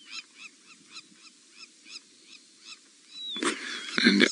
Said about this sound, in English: there's a sound we all know well that's going past, a crowned plover